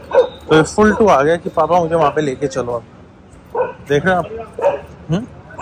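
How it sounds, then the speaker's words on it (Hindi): Dogs bark and yip in short bursts, mixed in with someone talking almost continuously close by. "वहाँ से बच्चे भौंक रहे हैं"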